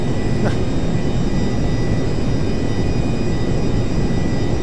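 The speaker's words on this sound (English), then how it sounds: "I've got my engine throttled basically all the way back. I'm doing 150." A Rockwell B-1A Lancer jet in Flight Simulator X, its engines throttled back around 150 knots, produces a steady, loud broadband roar with a thin high whine, continuous and unbroken throughout.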